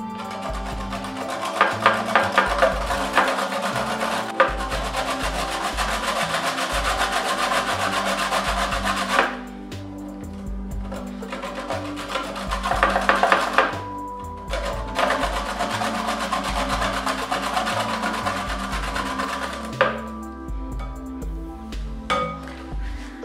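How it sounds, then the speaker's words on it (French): A bar of soap grated into powder on a grater, heard as a rhythmic rasping scrape that repeats in long strokes with a couple of brief pauses between runs. "Vous voyez, le savon est très facile à râper."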